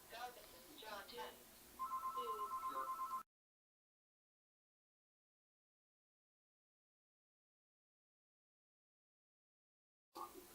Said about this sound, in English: And there goes our home phone.